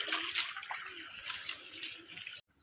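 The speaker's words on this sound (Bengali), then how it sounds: "পেয়ারা বাগানে জল দেওয়ার কাজ চলছে" Water pouring onto guava trees in an orchard, a steady close rushing and splashing flow that cuts off abruptly near the end.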